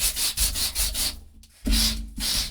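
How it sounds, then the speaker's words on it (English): Paper for craft ID tags is sanded by hand in quick rhythmic strokes, about eight close rasping passes with a brief pause midway. "Not just the sanding, but also after you sand it and using some of the distressing on here"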